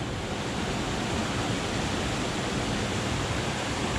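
A river flows beside old mine workings, a steady, loud, broadband rush of water that does not change and has no voices over it.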